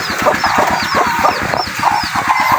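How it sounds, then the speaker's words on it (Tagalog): Hen clucking on a backyard poultry farm: repeated short clucks in a steady rhythm, fairly close and loud, with faint chirps and other fowl sounds behind. "Tapos yung isa nating inahin nandito pa naglilimlim."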